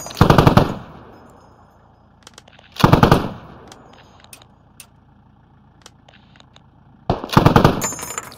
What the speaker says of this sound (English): Oh, I hear rifle fire.